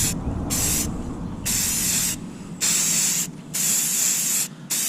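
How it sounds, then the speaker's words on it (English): Aerosol can spraying green camo paint onto a YETI cooler outdoors, a series of close, loud hissing bursts of about a second each separated by short pauses, with no talk. "I'm gonna go ahead and start painting the old YETI."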